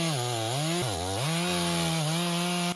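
A chainsaw cuts into a burnt, blackened tree log outdoors, its engine droning loud and close with pitch dips as the chain bites and revs, continuous for the whole stretch without voices.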